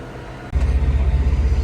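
A John Deere 8430 tractor engine runs close by on a Texas farm, a deep throbbing diesel rumble with a steady pulsing beat that jumps louder after a brief dip.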